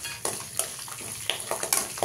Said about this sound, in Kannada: ಇವಾಗ ನಾನೊಂದು 3 ಬ್ಯಾಡಗಿ ಮೆಣಸಿನ್ಕಾಯಿ ಸೇರಿಸ್ಕೊತೀನಿ ಒಗ್ಗರಣೆಗೆ